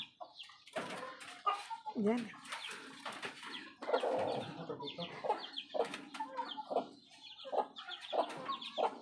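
Free-range village chickens cluck repeatedly close by, with a rooster-like call mixed in; short overlapping bursts run throughout, and speech may be mixed in with the birds.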